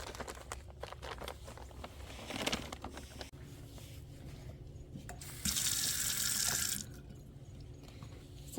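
Tap water runs into a sink to wash plastic vertical-planter discs with mild soap, a steady close rush that swells louder for a stretch midway, with faint knocks and handling sounds around it.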